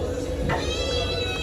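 A house cat gives one short, rising meow close by, over a steady background hum indoors during heavy rain.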